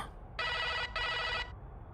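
An old telephone bell rings loudly in two long, buzzing bursts separated by a brief gap, with no other sound around it.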